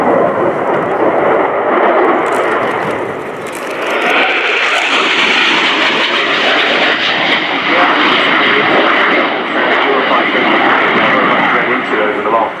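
A Eurofighter Typhoon FGR4 flies its display at the RIAT 2018 airshow, a loud, sustained jet roar that swells and rumbles throughout while an announcer talks over it.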